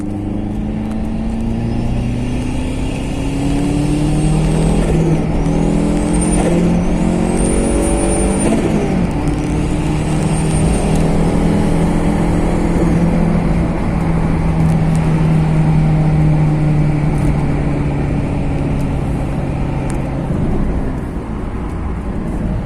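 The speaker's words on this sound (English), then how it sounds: "Honda Fit GE k24 Turbo with some spirited driving." A turbocharged Honda Fit Sport GE with a K24 engine pulls hard through the gears under spirited driving, engine note rising and falling with loud, continuous revving heard from inside the cabin.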